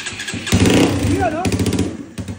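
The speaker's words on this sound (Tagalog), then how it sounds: "let's hear it for the first starting and fire" A Honda RS150 motorcycle bored up to a 200cc engine, running without its canister, cranks and fires up, settling into a loud, close, steady engine run with uneven pulsing.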